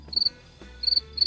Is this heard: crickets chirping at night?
yes